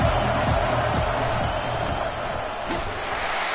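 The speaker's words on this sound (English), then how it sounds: "The crowd gets behind this defense." Stadium crowd noise from the College Football 25 video game swells steadily as fans rally behind the defense, a dense continuous roar with scattered thumps and no clear speech over it.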